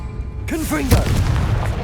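Confringo blasting spell fired in Hogwarts Legacy on PS5, a sharp whooshing cast swooping into a single booming blast that rumbles and fades, close and loud.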